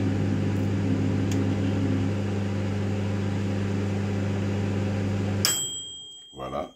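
A microwave oven hums steadily while cooking a sweet potato, a loud constant drone that suddenly cuts off near the end, followed by a brief click and faint handling sounds.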